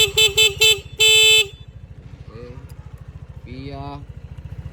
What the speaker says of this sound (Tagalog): Sa busina ni Sir, nilagay po natin PIA horn.